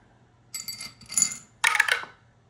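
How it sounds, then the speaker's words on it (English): An eight-sided die rattles and clatters in three short bursts during a tabletop savings game, the last tumble loudest and sharpest before it settles into quiet. "we will go ahead and mark off one of these and roll our D8"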